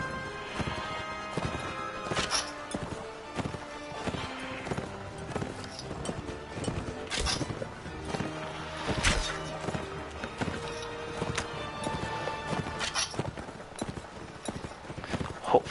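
Horse hooves clip-clopping in the Mount and Blade Warband video game, repeated galloping thuds mixed with occasional crashes and impacts, with game music and battle noise underneath, moderately loud and irregular.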